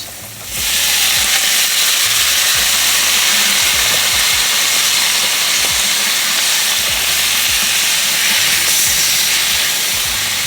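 Spinach and garlic sizzle loudly and steadily in a hot pan, a continuous close frying hiss with no one talking.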